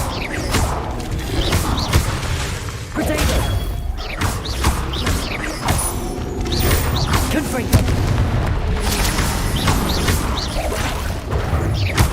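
Confringo blasting spell explosions in Hogwarts Legacy, repeated booming blasts and crashes in quick, irregular succession with mechanical clatter, under a talking voice.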